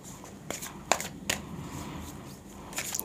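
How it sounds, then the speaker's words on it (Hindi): Tarot cards are shuffled by hand in a few quick papery riffles and snaps, crisp and close, with quiet rustling between them and no talking. "तो चलिए कार्ड शफल कर लेते हैं।"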